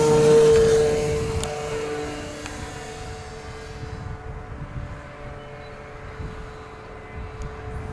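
An RC Kadet Senior trainer model airplane's engine drones steadily as it flies, loudest in the opening second and then settling into a fainter, continuous hum as the plane moves farther off.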